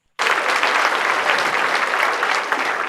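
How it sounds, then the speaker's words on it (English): Loud, dense applause from a school prize-giving day audience bursts in abruptly and holds steady and close for the whole stretch, with no voices over it. "let's clap for him"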